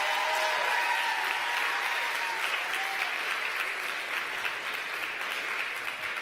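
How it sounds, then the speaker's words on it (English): An awards-ceremony crowd gives a round of applause, a steady wash of many hands clapping that holds at an even level for the whole stretch. "So I just want everyone to give them a big round of applause real quick."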